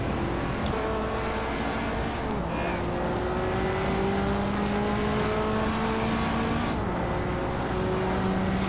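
Racing cars roar steadily in the video game Hot Wheels Universe Zero, engines whining with rising and shifting pitch as the player passes rivals, loud and continuous throughout.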